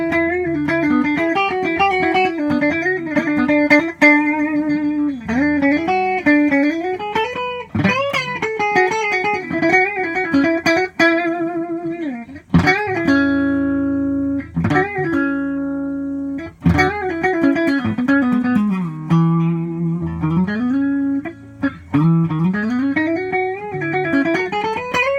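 A Matsumoku electric guitar played in single coil mode rings out in a clean melodic line of sustained, bending notes and quick runs, close and steady for about twenty-five seconds with no talking.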